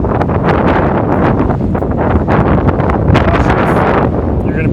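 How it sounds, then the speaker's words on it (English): Strong wind buffeting a microphone on a building rooftop near mechanical equipment and heater stacks: loud, constant, rumbling gusts with no break for the whole stretch, with no voice heard. "Might have to record audio over this afterwards because it is quite windy"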